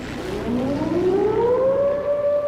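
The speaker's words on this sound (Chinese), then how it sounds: "空袭警报！" A loud air raid siren in Wuhan, warning of a Japanese bombing raid, winds up, its wailing tone rising steadily in pitch and holding near its peak.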